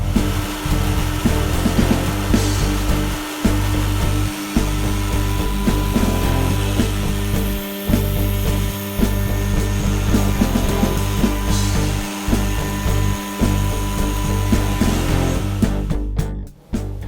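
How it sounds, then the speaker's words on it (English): A DIY CNC router cuts spacer pieces from scrap plywood, its loud continuous cutting whine and rasp broken by several brief dips where the bit lifts or slows, and it stops abruptly at the end. "I'm just now going to cut the spacer pieces from various scrap plywood pieces."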